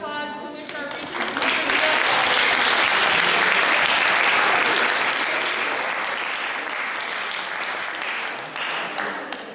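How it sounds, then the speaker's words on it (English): A school showcase audience bursts into sustained applause, loud and dense, swelling after a voice finishes speaking and then gradually thinning out. "We can have a round of applause"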